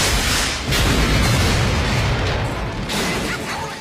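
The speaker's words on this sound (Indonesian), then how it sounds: "Mereka lalu menembaki mobil tersebut hingga meledak." A police car is riddled with gunfire and blows up in a scene from the film RoboCop 2: a loud, dense roar of blasts and rumble fills the whole stretch, surging sharply twice, with no voices.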